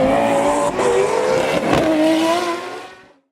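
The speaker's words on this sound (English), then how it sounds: "he gets to watch his cars doing burnouts" A car doing burnouts: a loud, continuous engine roar with high revs and screeching tires, holding steady for about three seconds before quickly fading out.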